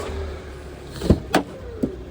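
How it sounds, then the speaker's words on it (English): A Citroen C1 back door, fitted with a new seal, shuts with a solid thud, followed by two lighter knocks over faint steady background hum. "We'll close the door and make sure it actually is functioning"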